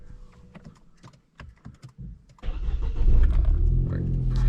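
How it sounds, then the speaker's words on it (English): A motorcycle engine cranks and catches, preceded by a series of sharp mechanical clicks, then settles into a loud, rough running rumble close by. "let me just fire up the engine"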